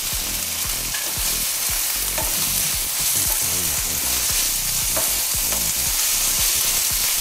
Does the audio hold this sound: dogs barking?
no